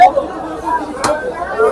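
Buyers crowd a busy village buffalo meat market, their chatter forming a close, dense babble with one voice standing out nearer than the rest.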